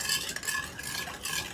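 Spoon stirring ketchup sauce in a bowl, a steady close scraping and swishing that runs continuously for under two seconds with no voices.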